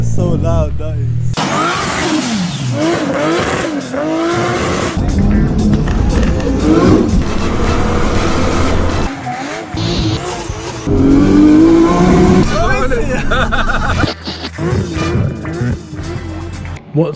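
A straight-piped Honda Civic Type R EP3 revs hard and loud up close, its raw exhaust rising and falling in repeated bursts with harsh rasp, while people talk over it.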